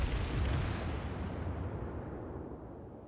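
The battleship Fuso firing a salvo of shells in World of Warships, one huge booming blast at the start that rolls off into a long rumbling decay, loud and with no voices.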